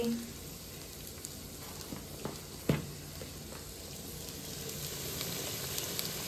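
Masala sautéing in a pan in a home kitchen, a soft steady sizzle running throughout with a few faint scrapes of stirring and one brief clink near the middle.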